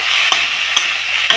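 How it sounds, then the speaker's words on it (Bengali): Salted spinach filling for singara stirred in a pan over steady loud sizzling, with three sharp spoon scrapes spaced through the short stretch; no one speaks. "এই লবণটা দিয়ে একটু নাড়াচাড়া করে"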